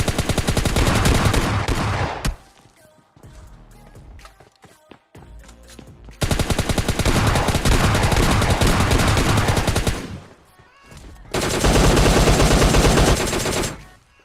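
Rapid automatic gunfire from a PUBG Mobile Lite firefight, loud close bursts of dense shots broken by short quieter pauses with scattered single cracks, then a final sustained volley.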